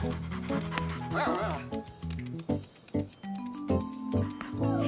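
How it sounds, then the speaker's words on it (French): A cartoon dog in a French-dubbed animated children's show gives several short, lively yips and barks over light background music, with brief character voices and sound effects mixed in. "grand-mère gardait Bobichon, le chien préféré de Caillou"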